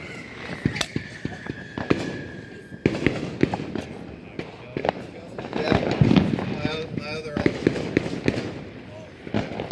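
Fourth of July fireworks using 60-gram artillery shells, with a rapid series of sharp, loud explosive bangs and crackles going off repeatedly, some close together, with occasional voices in the background.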